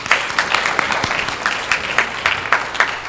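A college-funding event audience gives a short round of applause, irregular individual claps clearly audible through a steady moderate patter.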